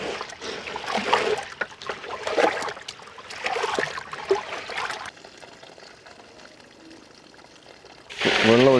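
Water poured over soaking urad dal for medu vada, close trickling and splashing in bursts, then quieter sloshing and a sudden louder pour at the end.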